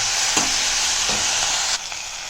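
Thuthuvalai (solanum trilobatum) leaves sauté in a hot pan with a steady, close hiss, broken by a few soft stirring scrapes, and the sizzle drops slightly toward the end.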